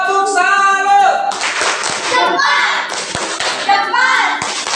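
Schoolchildren in a classroom lesson chant and clap together in the tepuk salut rhythm, their sung voices loud and close with claps punctuating the chant.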